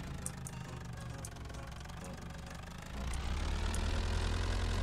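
Moped engine in Farming Simulator 22, a steady near idle-like drone that rises and grows louder about halfway through, running alone without talk.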